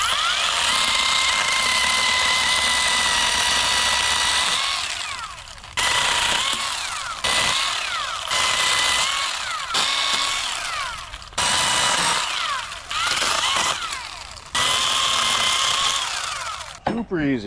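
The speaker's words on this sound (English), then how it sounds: "This 8-inch saw, so much better than the 6-inch saw." An 8-inch battery-powered saw cuts tree branches near black walnut trees, its loud steady motor whine running in repeated bursts that stop and restart with short pauses between cuts.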